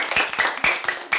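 Children clap to welcome a new choir conductor, a few sparse, uneven claps over about a second, fairly close and fairly quiet.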